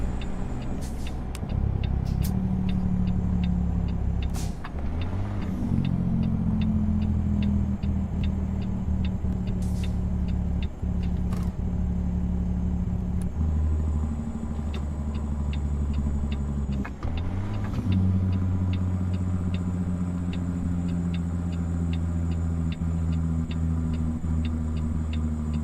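A simulated truck engine with its engine brake in American Truck Simulator, a steady low rumbling drone that runs throughout with shifts in pitch and occasional ticking clicks, and no talking.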